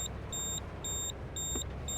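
A quiet electronic beeping alert from the truck video game Hard Truck 2 repeats in evenly spaced high tones over a low rumbling engine background.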